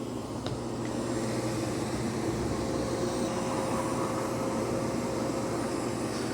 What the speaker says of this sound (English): It's doing a vacuum only event.